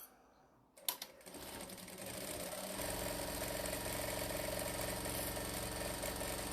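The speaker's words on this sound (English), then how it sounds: "I'm going to sew that together with a 1/4 inch seam." A sewing machine stitches a quarter-inch seam on a tote bag, starting after a brief quiet moment and a click, then settling into a loud, steady, close mechanical whir.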